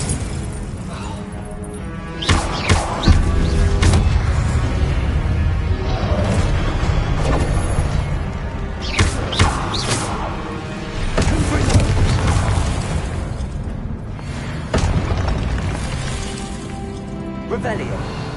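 Repeated magical spell blasts and cracking impacts from the Hogwarts Legacy video game, the Confringo fire spell and the Expelliarmus disarming spell, bursting in quick succession amid battle noise, with voices speaking over the action.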